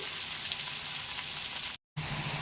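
Bitter gourd softening in hot oil gives a steady, quiet sizzle with a few small pops early on, broken by a brief silent gap before the frying hiss resumes.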